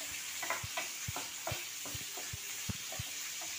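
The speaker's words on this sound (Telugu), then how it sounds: "కొద్దిగా ఫ్రై అవనిద్దాం ఆనియన్" Onions frying lightly in a pan, a quiet continuous sizzle under a regular rhythm of low spoon taps and scrapes, roughly two strokes per second, close and unaccompanied by speech.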